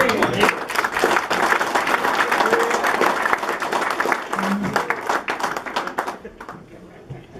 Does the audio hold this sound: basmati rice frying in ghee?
no